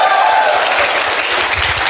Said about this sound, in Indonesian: Yang bisa hafal kita tepuk tangan buat saudara.